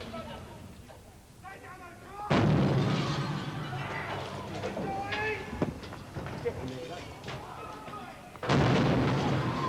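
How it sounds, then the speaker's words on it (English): Police stun grenades exploding during a siege raid: heavy booming blasts, one near the start and another near the end, over a continuous noisy background with a voice talking throughout. "throwing stun grenades"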